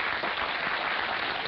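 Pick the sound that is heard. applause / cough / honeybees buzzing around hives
applause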